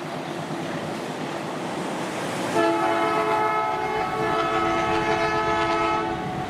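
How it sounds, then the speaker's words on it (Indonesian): The Gaya Baru Malam Selatan passenger train in Indonesia rushes past with a steady loud rumble, then sounds a long sustained multi-tone horn blast lasting several seconds over the rolling noise. "ini kereta api Gaya Baru Malam Selatan"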